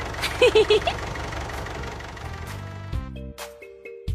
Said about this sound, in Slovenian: To je traktor.